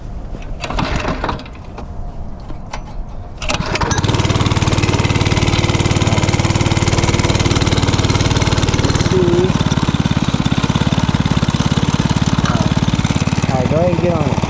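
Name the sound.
mini bike engine running after being cranked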